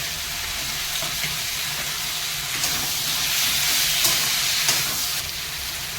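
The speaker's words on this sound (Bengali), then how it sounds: "মশলাটা কষানো হয়ে গেছে" A spice paste of ground cumin, chili, garlic and pepper frying in oil for a Bengali fish curry, a steady close sizzle with occasional soft stirring scrapes and no voices.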